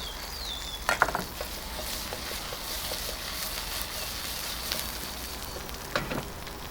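Onions fry in a pan as a prawn dish with ginger and spring onion gets underway, giving a soft steady sizzle with a few sharp utensil clicks and taps. No voices are heard.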